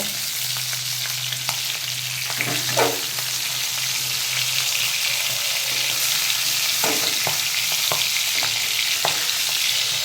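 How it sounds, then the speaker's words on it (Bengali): Fish pieces fry in hot oil in a pan, a continuous loud crackling sizzle with a low steady hum beneath and a few spatula knocks as the pieces are turned. "মাছগুলো একটু ভাজা হয়ে গেলে উল্টে দেবো একটু পরে।"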